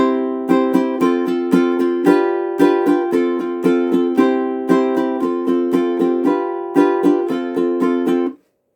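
Ukulele chords strummed in a steady, even rhythm with bright repeated strokes, played up close with no voices, stopping cleanly at the end.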